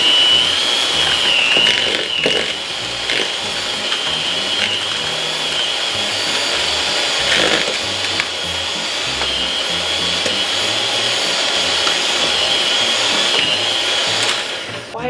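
An electric mixer whips an Oreo cheesecake mixture, a loud steady high-pitched whine running continuously with slight wobbles in pitch, close and unbroken, with no talking.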